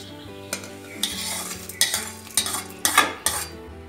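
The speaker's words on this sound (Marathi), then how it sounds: "जिरे आणि शहाजिरे हे ह्याच्यामध्ये मी तेल नाही टाकणार आहे, असं कोरडंच भाजणार आहे." Cumin and caraway seeds being dry-roasted without oil in a pan for a Ghati masala, with a metal spoon scraping and clinking against the pan in irregular sharp strokes over a faint steady background tone.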